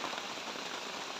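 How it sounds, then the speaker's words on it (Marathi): Heavy rain pours steadily in an orchard, a dense, even hiss of drops drumming on surfaces close by, with no voices. "पाऊस जोरात"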